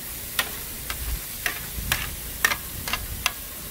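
Onion, green pepper and carrots soften on a griddle for chicken fried rice, a low steady sizzle broken by about eight sharp, evenly spaced metal taps from a spatula.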